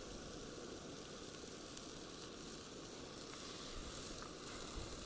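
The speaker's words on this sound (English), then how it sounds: "So I'll turn the heat down a little bit just to let it simmer" Steak sandwich simmering in a Jetboil skillet over a camping stove outdoors, giving a steady, faint, continuous hiss and sizzle with no talking.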